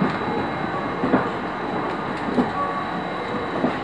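A JR KiHa 40 diesel railcar pulling into Koide station on the Tadami line, a steady rumbling roll with rhythmic wheel clacks over rail joints, heard from on board at close range.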